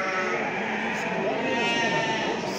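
Sheep and goats bleat repeatedly over a dense, steady din at a livestock market in Çorum, Turkey, with a voice speaking faintly among the animals.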